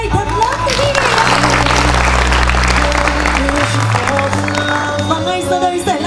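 Wedding guests break into loud, continuous applause at a wedding celebration, a dense, steady wash of clapping from a crowd that holds for several seconds.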